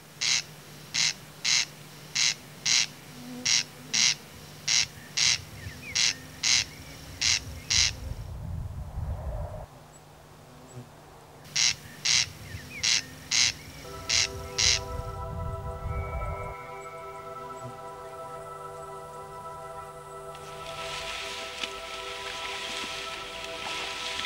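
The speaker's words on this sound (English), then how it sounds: "ornithologists count meadow and marsh birds, paying special attention to the corncrake" Meadow and marsh birds in Kemeri National Park, where a corncrake is counted, give rapid, evenly spaced rasping calls in two long series, loud and fairly close, followed by quieter mixed calls and a steady background hum.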